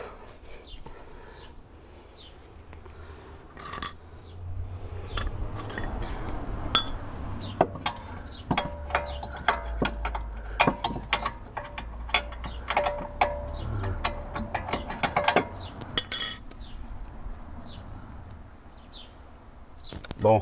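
Metal clinks and taps of a wrench against the rear upper suspension arm of an Alfa Romeo 166, scattered and irregular, with a low background rumble throughout.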